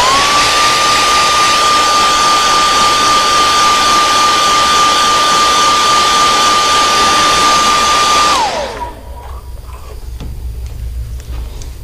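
A heat gun blows steadily for about eight seconds, curing airbrushed paint on a bluegill stripe pattern. Its loud, broadband whoosh and fixed motor whine hold constant, then wind down and cut off, leaving quiet room tone.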